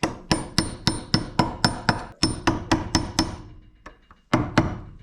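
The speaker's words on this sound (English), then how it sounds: "give it a medium whack. All right, 2-pound sledge." A 2-pound sledgehammer strikes a part on a Saab Sonett during rally prep, about a dozen sharp metallic whacks in a quick steady rhythm, a short pause, then two more hits, close and loud.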